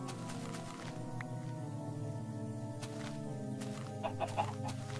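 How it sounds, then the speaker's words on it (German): A chicken clucks in the video game Minecraft, soft, short clucks under a steady layer of in-game background sound, fairly faint overall. "Hühnchen!"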